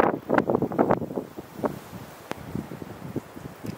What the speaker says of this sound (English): Oh my god, it's so windy outside.